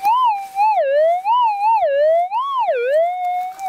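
A metal detector sweeping over a buried target while gold prospecting in Victoria, Australia, gives a loud, continuous warbling tone that rises and falls in pitch as the coil passes back and forth, with no talking.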